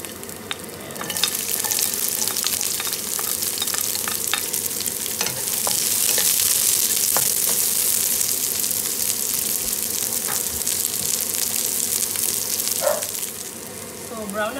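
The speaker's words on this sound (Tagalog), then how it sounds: "naglagay po ako mga kapatid ng konting oil. Ilalagay ko na yung aking garlic at saka yung aking onion." Garlic and onion sizzle steadily in a little oil for a beef adobo, with occasional stirring clicks over a continuous bright frying hiss, close and fairly loud throughout.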